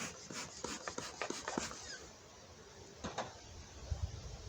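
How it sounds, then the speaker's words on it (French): Wooden beehive frames scrape and rub as empty end frames are lifted out of a hive during late-summer preparation for wintering; close, irregular scraping bursts with a few sharp knocks, fairly quiet overall. "Déjà retirer les cadres d'extrémité qui sont absolument pas habités."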